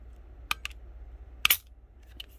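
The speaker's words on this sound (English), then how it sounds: "you'll hear that click. Hear it's clicking." A few sharp, isolated clicks from a drum trigger kit sound close and fairly quiet, two separate taps about a second apart followed by a fainter one.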